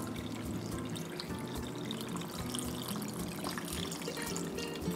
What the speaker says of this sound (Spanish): luego le ponemos el vinagre.